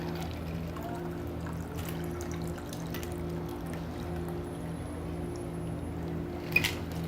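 A caramel apple martini mixture is poured into a glass in a steady, even liquid stream that runs the full length, with one small clink near the end.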